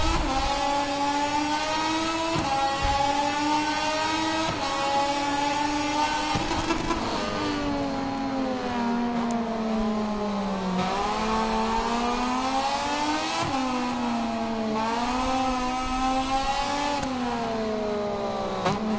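A race car engine drives through the first lap of a grand prix qualifying session with the rear tyre sliding. It is loud and continuous, its pitch climbing and dropping through repeated revs and gear changes.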